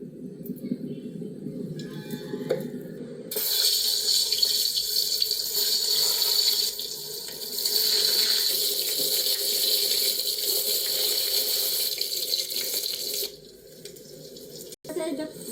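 Water runs steadily from a tap into a sink for about ten seconds while washing up during a picnic, a close, continuous rush with brief handling noises, then stops.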